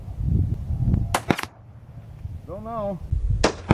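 Rifle shots at a long-range target from an Austrian-made Mauser .30-06, two sharp loud cracks in quick succession near the start and another near the end, with someone briefly speaking between them.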